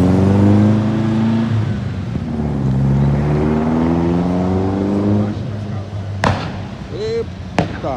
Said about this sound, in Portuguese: Olha o ronquinho do escape de puma ali